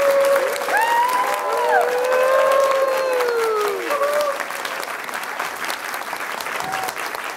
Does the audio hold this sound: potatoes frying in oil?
no